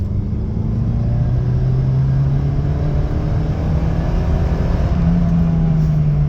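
A Fiat Seicento's small engine hums steadily in second gear, a loud close drone from inside the car with a rising then settling pitch as it pulls along.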